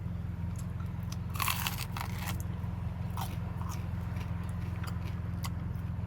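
Crunchy toasted food bitten and chewed close up inside a car, with a few sharp crackling bites over a steady low hum.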